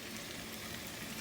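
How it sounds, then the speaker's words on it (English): A New York strip steak fries in a pan, giving a steady, soft sizzle with fine crackling that stays even throughout, with no voices over it. "Let the sucker fry up a little bit."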